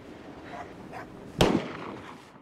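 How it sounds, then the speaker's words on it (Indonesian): A hunter's gunshot in a film, heard as one sharp, loud crack followed by a short rumbling decay over quiet outdoor background. "Davin dan Naja auto panik karena menyangka si Dogi telah ditembak oleh para pemburu"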